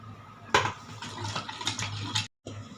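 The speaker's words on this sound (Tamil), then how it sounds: "தண்ணி லைட்டாக போட்டுக்கலாம்." Water poured lightly into a grinder jar holding coconut masala with sautéed onion, garlic, ginger, tomato, salt and turmeric, a splashing pour lasting about two seconds before cutting off abruptly.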